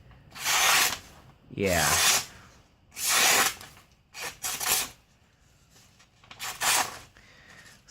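A thick, chisel-ground XHD-7 knife slices through paper in a series of loud, raspy swipes, about six strokes of varied length with short pauses between them. A voice speaks briefly once.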